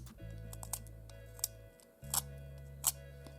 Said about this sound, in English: just sharpen them with a knife